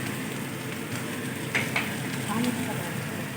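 Potatoes and Bombay duck fish frying and stirred in a pan, a steady low sizzle with a few brief scraping stir sounds, fairly quiet.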